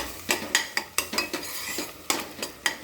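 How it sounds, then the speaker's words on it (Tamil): A spoon stirring gravy in a pot scrapes and clinks against the metal in a steady rhythm, roughly ten distinct close strokes with a faint sizzle underneath. "இப்போ எல்லாத்தையும் நல்லா கிண்டி விட்டுட்டு"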